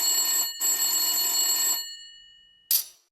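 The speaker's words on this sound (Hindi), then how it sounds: "लड़की के पिता के घर पर टेलीफोन बजता है।" A telephone rings at a father's house in two long, bright electronic bursts separated by a short gap, loud and close, followed by silence and a sharp click as the receiver is lifted.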